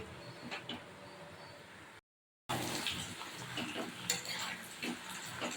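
Malabar spinach cooking down with prawns in a pan gives a soft, low sizzle with gentle stirring scrapes. A brief silent gap interrupts it, then the frying returns a little louder.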